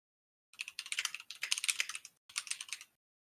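Rapid clattering keystrokes on a computer keyboard come in three quick bursts separated by short pauses, close and fairly quiet against a silent background.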